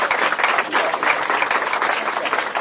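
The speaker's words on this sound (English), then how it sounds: "But give Dave a big round of applause." Steady crowd applause at a political campaign kickoff rally, dense and loud clapping filling the whole stretch without pause, cheering hands close and continuous.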